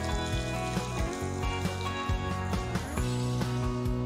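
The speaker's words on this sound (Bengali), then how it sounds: "এটাকে আমি একটু হালকা করে ভেজে নেব।" Chopped onion fries gently in hot white oil in a nonstick wok, a steady close sizzle running throughout with music-like tones over it.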